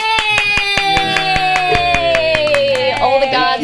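Many hands clapping together in steady, evenly spaced claps over continuous tonal music, close and loud throughout.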